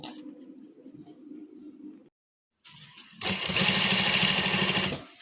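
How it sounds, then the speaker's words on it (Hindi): A sewing machine stitches the outline of a blouse design, starting after a quiet pause and then running in a loud, steady, rapid whir for about two seconds, heard alone. "इसकी आउटलाइन की सिलाई,"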